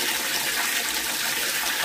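Water runs steadily in a clean public toilet washroom at a countryside tourist spot, a loud continuous close gushing hiss with no breaks and no voices.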